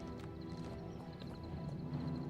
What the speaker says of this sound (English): Whoa, this horse just rode right over the fucking rocks.